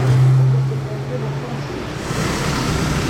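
A McLaren Pista Spider passes on a street in Monaco, its engine a loud low tone that fades out, followed by a broad rushing whoosh of wind and traffic noise.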